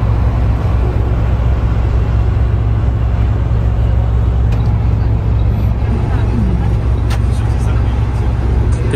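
Bus driving on a cleared road toward the airport in Istanbul, a steady low engine rumble and road noise heard from inside the vehicle.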